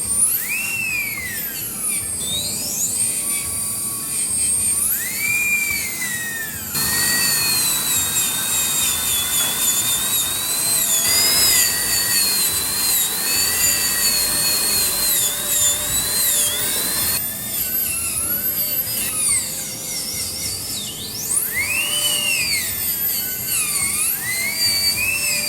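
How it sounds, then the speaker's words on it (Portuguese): A dental drill performing occlusal reduction on molars whines at a high, sustained pitch that rises and falls as it bites and eases off, loud and close, with no talking. "Vou apenas fazer um pouco mais de redução oclusal. Na sequência já finalizaremos as preparações dos 2 molares."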